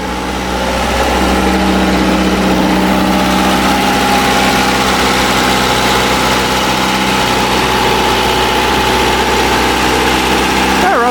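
A muffled Toyota 3TC engine idles in a 1978 Clarke 763 skidsteer, holding a steady, loud, close-up drone with an even low hum that runs unbroken for the whole stretch.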